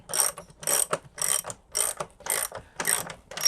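Ratchet wrench clicking in rapid bursts while tightening the plastic clamp on a Hayward pool filter, seven short close ratcheting runs with brief pauses between, no talk.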